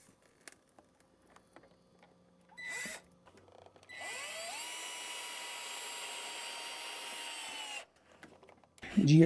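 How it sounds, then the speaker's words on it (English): Power drill driving screws through the side of a vinyl window frame with GRK vinyl window screws: a short whirring burst, then a steady high whine for several seconds that cuts off, with brief talk between. "holes have to be screwed through the side of the frame of the window, through which screws are inserted"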